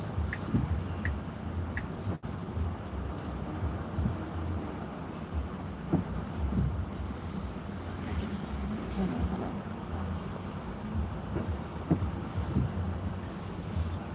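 Steady road traffic rumble with trucks and buses passing nearby, broad continuous engine drone with occasional brief hisses and clunks, no clear talk.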